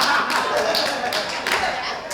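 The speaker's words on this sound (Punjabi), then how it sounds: "ਉਹ ਤਾੜੀਆਂ ਮਾਰੋ" A group claps continuously in a dense, steady patter during a Punjabi stage comedy drama, with voices mixed in underneath.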